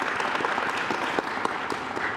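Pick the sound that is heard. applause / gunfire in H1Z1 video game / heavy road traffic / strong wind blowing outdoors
applause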